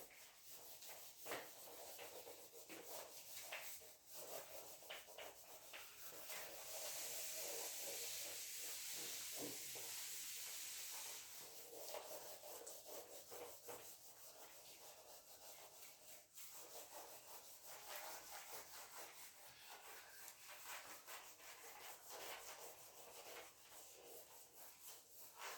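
Someone erases writing on a board with long, continuous rubbing and scrubbing strokes, a soft hiss that rises in the middle and carries on steadily, with no talking.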